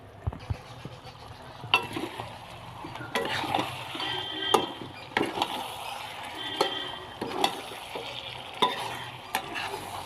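Chicken being sautéed in a pot for biryani: a steady close sizzle with regular, sharp spatula scrapes and knocks against the pot for about ten seconds.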